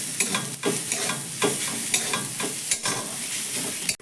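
Mashed potato and vegetables being mixed in a pan for a healthy snack, with repeated scraping and stirring strokes over a steady close sizzle.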